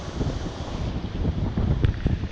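Extreme wind buffets the microphone during a DJI Mavic Air drone landing in wind and rain, a loud, continuous rumbling roar with gusty swells and no voices.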